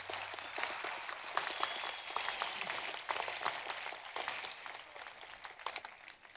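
Applause at a college commencement ceremony, a crowd's dense crackle of clapping heard from a distance, steady and then thinning slightly, with no talk over it.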